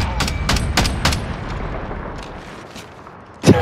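Rapid gunfire from a shooter video game crackles in quick bursts, several close sharp shots in the first second followed by fainter scattered pops and a heavier thump at the end.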